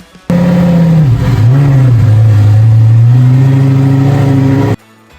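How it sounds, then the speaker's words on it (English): A Lamborghini engine revs loudly and steadily for about four seconds as the car is moved out of a home garage, its pitch dipping briefly early on and then rising to a sustained, throaty drone before cutting off abruptly. "Now I need to get the car out of the garage."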